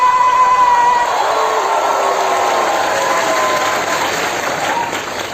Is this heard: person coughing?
no